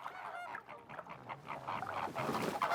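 A flock of flamingos keeps up honking, goose-like calls that overlap in a dense, continuous chorus, moderately close, with no talking.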